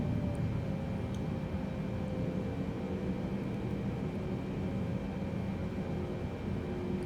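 A Boeing 767-400ER in Microsoft Flight Simulator rolling for takeoff on a runway at Hyderabad, a steady, fairly quiet engine roar and airflow hiss holding constant throughout.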